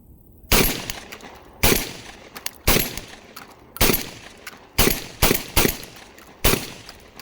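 A Mac 1014 shotgun, a Turkish Benelli M4 clone, fires eight loud, sharp blasts with uneven spacing, each trailing off quickly, with no talking.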